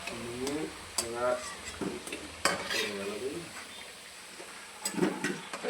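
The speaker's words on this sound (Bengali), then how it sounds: "আলুটা ভাজা হয়ে গেল, বেশ হালকা লাল লাল করে, একদম ছাঁকা তেলে আলুটা ভেজে নিই।" Potatoes deep-frying in hot oil and being stirred in a pan, with scraping and clinking of a utensil against the metal over a steady bubbling sizzle, repeated stirring strokes at close range.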